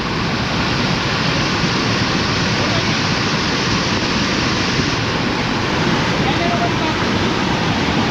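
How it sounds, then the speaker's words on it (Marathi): Water rushing through an irrigation channel during the monsoon in Naringre, Devgad, a loud, unbroken broadband roar close by that stays steady from start to finish. "आता इथे खूप पाणी आहे"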